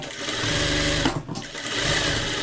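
A sewing machine runs steadily, stitching along the rounded top of a blouse sleeve, its close, continuous motor whir broken by a brief pause near the middle before resuming.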